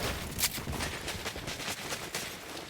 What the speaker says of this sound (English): They do notice some gunshots ahead